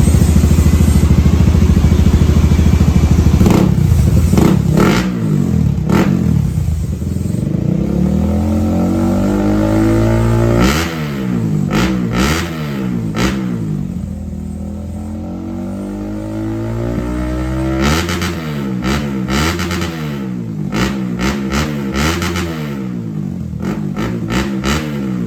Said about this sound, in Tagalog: Honda Winner X guys, sound check natin sa Bilane GP2 ng walang silencer.